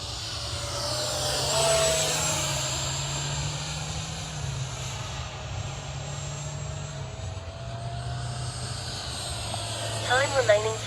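FMS F-16 64mm electric ducted-fan RC jet flying a morning sortie, a steady whining rush that swells and fades as it passes at a distance, with a constant drone throughout.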